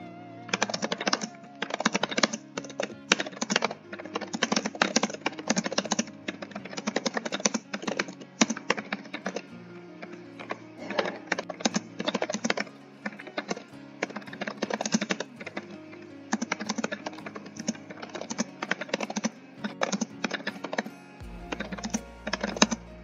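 Rapid, steady computer keyboard typing during a Nitro Type online typing race, dense bursts of keystrokes running continuously and close up, with background music underneath and no talking.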